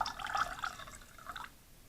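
Water trickles and drips into a glass of absinthe in a quick, faint run of small liquid splashes and bubbling that tapers off after about a second and a half.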